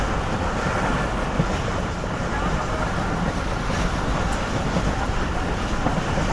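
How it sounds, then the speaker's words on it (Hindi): Karakoram Express with old coaches running on the Lahore–Karachi line after leaving Faisalabad gives a steady, loud rumble and roar of wheels on rails, continuous and unbroken. "फैसलाबाद से चलने के बाद अब जाके ट्रेन ने एक्सीलेट करना शुरू किया और अब अच्छी स्पीड में आई है"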